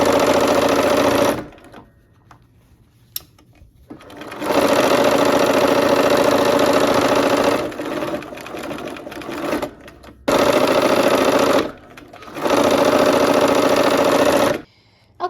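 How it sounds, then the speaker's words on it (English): A sewing machine joins quilt blocks for a barn quilt sampler in loud, close bursts of steady whirring, each several seconds long, broken by short quiet pauses. "We're gonna sew these last blocks together for the rows."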